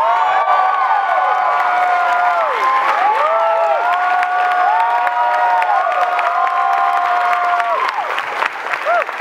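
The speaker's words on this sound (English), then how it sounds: "Please give a warm round of applause" An audience at a horror convention panel applauds and cheers for the writer, director and producer John Landis, a loud, steady crowd roar with whoops and shouts running throughout before thinning slightly at the end.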